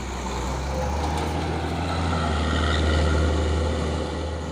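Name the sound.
trucks climbing an uphill road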